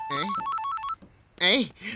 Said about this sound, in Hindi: भाई का फोन।